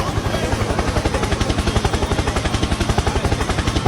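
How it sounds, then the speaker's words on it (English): A steady, rapid thumping of helicopter rotor blades over an Indian street food setting, loud and close, pulsing evenly throughout. "Helicopter, helicopter."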